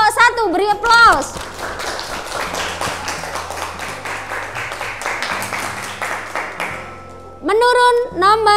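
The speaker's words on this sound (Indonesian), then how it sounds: "100 untuk kelompok 1, beri aplaus." A classroom applauds group 1 with quick clapping that fills most of the stretch at steady loudness, while voices speak before and after it.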